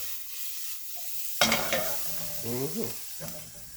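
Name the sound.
beef short ribs sautéing and sizzling in a pot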